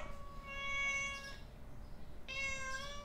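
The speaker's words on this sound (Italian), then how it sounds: "E viene mi miagola in faccia, miagola in faccia con prepotenza" A cat meows twice, close and clear, with two drawn-out insistent calls separated by a short pause over faint background hum.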